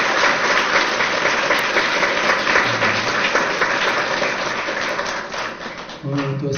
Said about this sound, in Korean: 특히 우리 사모님 위해서 박수 좀 보내드릴까요?